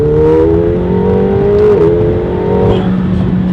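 A car engine revving hard and close, its pitch climbing steadily, dipping briefly, then holding a loud sustained whine before easing off.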